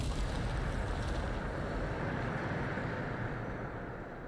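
A Bombarda explosion spell in Hogwarts Legacy lands as a broad, roaring blast that rumbles steadily, then thins and fades toward the end, with no voices.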